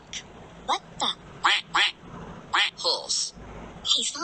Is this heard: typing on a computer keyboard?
no